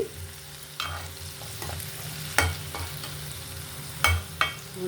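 Indian gooseberries (amla) fry in oil for Andhra-style pickle, making a soft, even sizzle nearby, punctuated by a few sharp spoon knocks against the pan.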